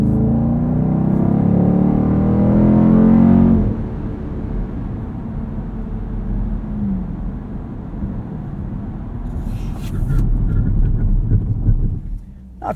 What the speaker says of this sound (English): One thing we haven't quite done yet is a brake test.